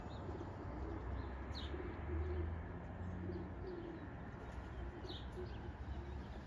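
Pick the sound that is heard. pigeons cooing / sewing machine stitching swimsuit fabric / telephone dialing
pigeons cooing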